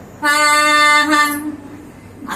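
A single loud, sustained horn-like tone, voiced in imitation of a train horn, held for about a second before trailing off.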